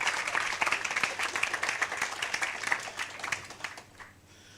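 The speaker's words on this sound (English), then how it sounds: "Let's give them a round of applause" A workshop audience claps for the pitchers at a pitching session on building multiple revenue streams, lively many-handed applause that stays strong and then thins and fades toward the end.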